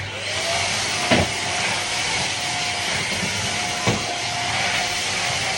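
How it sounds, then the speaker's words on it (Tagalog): A vacuum cleaner runs in a home kitchen, a steady, loud whooshing drone with two brief bumps as it moves, with no talking. "And then, magva-vacuum naman ako."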